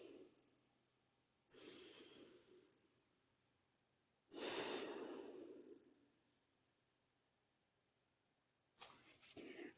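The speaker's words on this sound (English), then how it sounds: "just take a moment to breathe there" Slow, deep breaths while resting in child's pose during a Pilates mat session, heard as three drawn-out airy inhales and exhales, close and soft, separated by quiet pauses.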